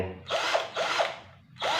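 A cordless battery impact drill whirs in three short bursts, each a loud close rasping buzz lasting about half a second with brief pauses between, no talking.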